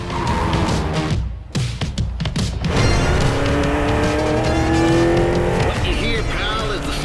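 NASCAR race cars in The Crew Motorfest, loud engines roaring close with tire squeal and skidding, a burst of rapid mechanical bangs early on, a voice speaking over the racing din.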